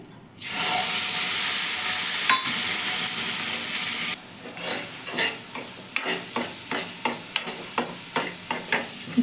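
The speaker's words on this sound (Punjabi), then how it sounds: "ਉਹੀ ਪੌਣਾ ਕੌਲੀ ਆਪਾਂ ਦੁੱਧ ਦੀ ਪਾ ਦੇਵਾਂਗੇ" Milk poured into semolina roasting in a heavy-bottomed kadai for sooji barfi bursts into a loud, steady sizzle, then settles into rhythmic scraping and stirring strokes of a spoon against the pan, close by and without speech.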